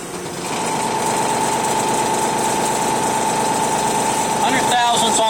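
A Mori lathe takes a boring cut with a large 1 1/4 inch boring bar, a loud, steady machining drone with a sustained tonal hum that runs evenly, then shifts and grows rougher near the end.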